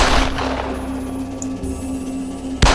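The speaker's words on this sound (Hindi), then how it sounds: "गोली की आवाज से जंगल गूंज उठा" A gunshot effect in a Hindi horror story, a rifle fired at a rabbit in a forest, comes as a dense burst that echoes and rumbles through the clip and ends with a sharp loud crack near the end.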